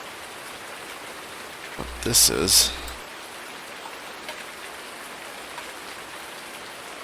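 Steady rain falls in the farming video game Farming Simulator 19, a constant soft hiss that persists throughout, briefly overlaid by a short spoken phrase and a faint clicking blip.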